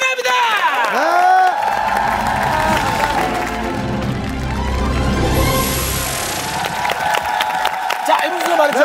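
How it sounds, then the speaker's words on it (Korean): A studio audience at a Korean TV talent show breaks into applause and cheering, mixed with musical tones and an announcer's voice speaking over the crowd. "큰 박수가 필요합니다"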